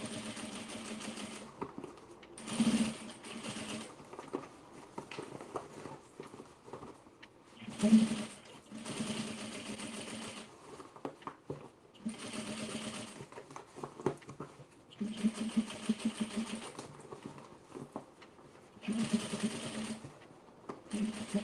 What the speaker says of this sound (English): Okay, sewing my seam of the base open